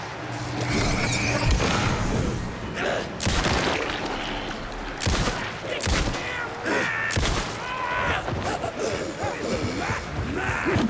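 Rapid gunfire from Alan Wake 2, sharp bursts and single shots scattered over about eleven seconds, close and loud amid game effects, with a voice talking in between.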